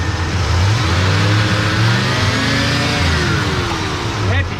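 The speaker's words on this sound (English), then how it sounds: "Almost hesitating a little bit, ain't it? I mean, when you give it gas." An old car engine revs when given gas, its mid-pitched roar rising and falling unevenly and hesitating as the throttle opens, loud and close, with voices talking over it.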